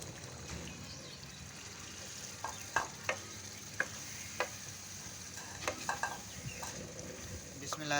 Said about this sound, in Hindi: मसाले हमारे गल चुके हैं। अब हम इसमें छोले ऐड करेंगे।